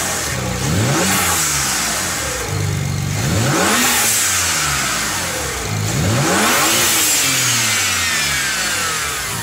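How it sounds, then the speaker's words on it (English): A BMW 335i turbo engine revs up three times in a row, each burst rising and then falling away with a short whoosh from the blow-off valve, loud and close. "for people who don't love blow-off valve sounds"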